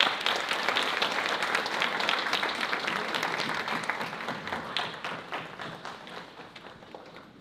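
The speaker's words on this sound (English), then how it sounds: "please give a warm applause to Sri Pralhad Wamanrao Pai" Sustained audience applause at a seminar on relationships and parenting, dense clapping from a large crowd holding steady throughout, then tapering off slightly toward the end.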